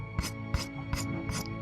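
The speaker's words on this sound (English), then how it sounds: "Let's see if you can hear the scratching." A sheet of paper is scratched in four rhythmic, evenly spaced strokes, each a close, soft hissy rasp over a faint steady background hum.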